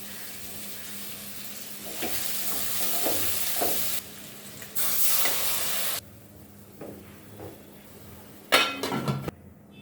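Taro stolons (kochur loti) cooking with powdered spices in a pan: steady close sizzling with scraping stirs and light clinks, a few louder hissing stretches, and a final burst of clattering near the end.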